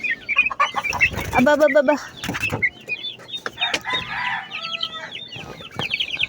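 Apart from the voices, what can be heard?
chickens clucking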